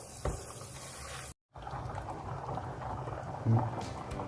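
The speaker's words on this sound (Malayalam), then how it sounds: "ഇപ്പം അരി ഇട്ടതിന് ശേഷം നന്നായി തിളച്ച് വന്നിട്ടുണ്ട്." Rice boils in water in a pot for ghee rice, producing a steady, close hiss of bubbling that is broken by one brief dead gap before carrying on with a slight surge near the end.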